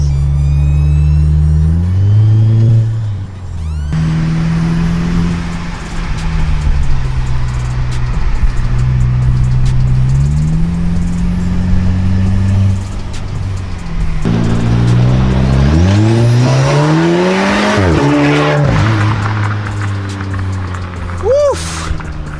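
A 2017 Audi S3 with an Integrated Engineering intake and lowering springs accelerates hard on a night road in Utah. The engine note climbs loud and close through several rising pulls, with turbo whooshes and whistles between the surges.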